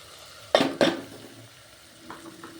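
Roasted spices and crushed matki in a pan: two quick scraping stirs clatter close by, followed by a faint low sizzle and a softer stir near the end.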